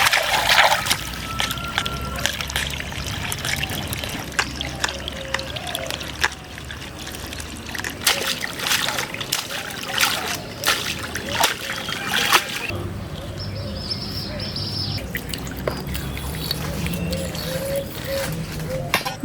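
Freshly cleaned latha fish are washed by hand in water, giving irregular splashes, sloshes and trickles close by, with scattered clatter and a few voices in the background.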